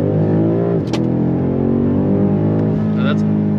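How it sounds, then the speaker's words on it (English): A 2022 BMW M5 Competition LCI sedan at full throttle, its engine note rising steadily as it accelerates, loud and close, with brief gear-shift dips. "I think it's time that we give it full throttle, shall we?"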